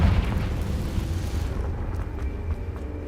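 The Confringo fire spell from Hogwarts Legacy bursts with a deep, rumbling explosion, loud and close, whose low boom decays over about two seconds.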